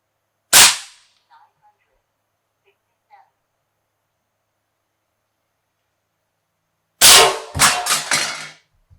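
An AEA Challenger Pro .30 caliber airgun fires two slug shots at plate steel in a backyard, a sharp crack followed seconds later by a loud report with rapid ringing metallic echoes.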